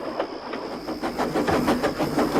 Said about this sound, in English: Duck was taking a goods train to Tidmouth.